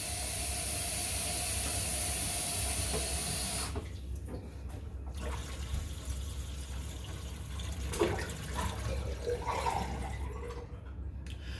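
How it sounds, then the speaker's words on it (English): A good volume of water drains steadily down a bathroom sink drain after the drain assembly is replaced, a constant rushing hiss that changes partway through to a quieter, gurgling flow with faint splashes. "You want a good volume of water going down your drain."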